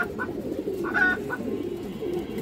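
Pigeons, including fancy breeds kept by a hobbyist, cooing softly in a short burst of low, rolling calls over a steady background murmur, with no talking.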